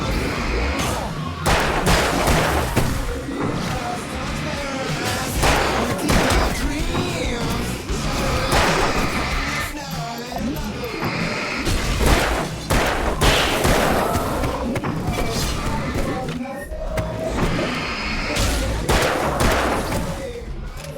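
Booming fireworks in the finale of the video game Alan Wake, loud repeated bursts and crackles packed densely over music and game noise, with steady heavy blasts throughout.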